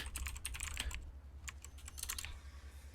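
Rapid clicking keystrokes on a computer keyboard as a password is entered, close but soft, in quick irregular bursts over a steady low electrical hum.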